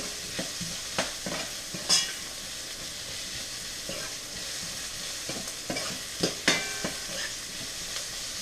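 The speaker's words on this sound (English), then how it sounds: "I'm going to add in my onion. And you really just want to fry the onion" Onion frying in oil with soy sauce-boiled quinoa nearby, a steady sizzle broken by repeated scrapes and clacks of a spatula stirring in the pan, close and fairly quiet.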